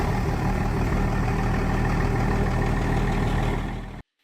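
A Dodge Ram with a 5.9-liter Cummins 12-valve diesel runs at a steady, loud idle, a dense low rumble with a rapid chugging pulse that carries evenly for about four seconds, then cuts off abruptly.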